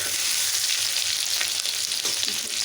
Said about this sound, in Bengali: এবার মাছের ঝোলের আলুটা ভেজে নিচ্ছি।